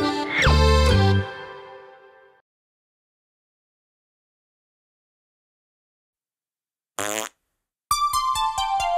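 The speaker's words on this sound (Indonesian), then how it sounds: "Yang kentut." A cartoonish fart sound effect, loud and tonal, opens a children's animated song, followed after a silence by two short bursts of bright musical tones.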